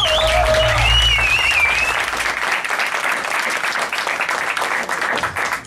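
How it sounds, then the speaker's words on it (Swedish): Loud crowd applause fills a small live venue before a post-hardcore band's set, starting over a few high whistles and then continuing as dense, sustained clapping. "So en stor applåd!"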